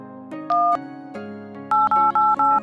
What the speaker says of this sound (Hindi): फिर फोन मिलाऊं?